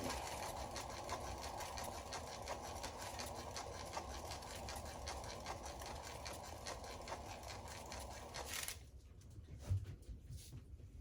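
A turntable spinner whirs steadily for about eight and a half seconds with a rapid, even mechanical hum as it spins a straight flower pour of fluid acrylic paint without silicone, then stops abruptly, leaving a faint quiet tail.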